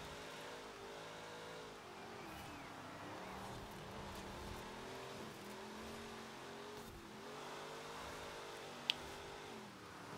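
A muscle car engine in Forza Horizon 4 drones and revs steadily, pitch rising and falling as it accelerates and shifts, with a single sharp click near the end.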